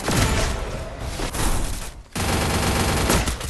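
Dense automatic gunfire from a shooting video game pours out loud and continuous, with a brief dip near two seconds before the rapid burst resumes at full strength.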